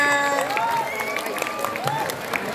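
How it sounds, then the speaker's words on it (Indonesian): A crowd applauding and cheering at a school Isra Mi'raj event, steady clapping filling the space, with lively voices and shouts mixed in. "tepuk tangan buat semuanya"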